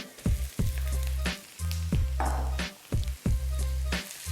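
Minced beef and caramelised onions frying in a pan for stuffed meatballs, a steady loud sizzle broken by repeated scraping stirs with a spatula, close up.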